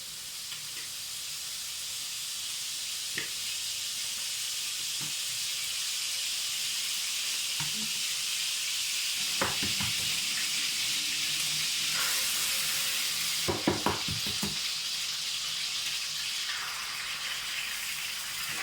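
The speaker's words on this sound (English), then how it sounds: "for frying the egg" An egg fries in a little oil in a home kitchen while making fried rice, with a soft, continuous sizzling hiss broken by a few scattered clicks and scraping bursts.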